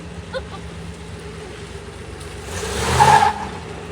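A 1975 Chevrolet Monza fitted with a 350 V8 barks out one loud rev burst from outside, rising and peaking briefly before easing off, with wind rumble underneath.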